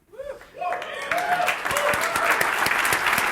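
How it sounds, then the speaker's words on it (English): Audience applause breaks out at a tech conference talk, swelling into steady dense clapping after a short spoken phrase at the start. "I'll clap to that"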